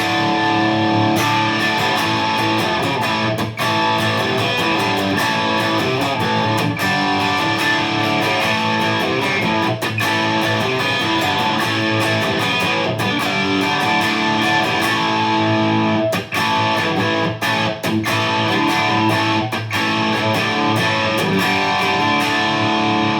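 Electric guitar through a Seymour Duncan Pearly Gates bridge humbucker and Marshall-type distortion with hall reverb plays loud, sustained, saturated chords and riffs with no one talking.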